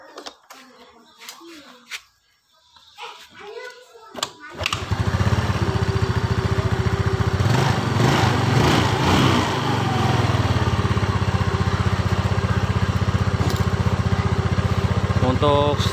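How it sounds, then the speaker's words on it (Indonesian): A Yamaha Mio scooter with a misfiring, sputtering carburetor starts after a few seconds of quiet speech, then settles into a steady, close, continuous idle that runs unbroken to the end. "Sekarang kita nyalakan motornya bro."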